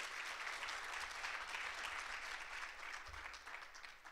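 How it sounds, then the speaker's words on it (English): Steady applause from a conference audience at a plenary session, many hands clapping continuously at an even level throughout. "Can we give them a round of applause"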